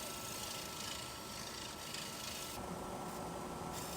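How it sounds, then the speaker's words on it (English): A scraper works the bottom of an ambrosia maple bowl spinning on a wood lathe, giving a continuous, fairly loud scraping rasp that changes tone partway through, with no voices. "Switching out to the actual scraper now to clean the bottom up"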